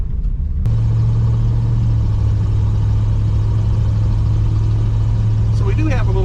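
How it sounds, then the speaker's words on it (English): A 1964 Cadillac Fleetwood with a slight exhaust leak starts up and runs loudly and steadily as it eases off down the road, its low engine drone constant throughout with a brief higher whine near the end. "So we do have a little engine noise."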